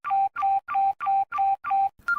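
Touch-tone telephone being dialed in a radio drama: six evenly spaced beeps in quick succession, clear and close, followed by a short final tone.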